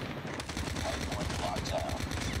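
Sustained rapid gunfire in Call of Duty Mobile, loud and continuous automatic bursts with game effects layered on top, and faint voices in the mix.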